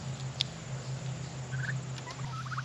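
Turkeys gobble softly in short warbling bursts over a low steady hum on a farm, the birds sounding a little distant and fairly quiet.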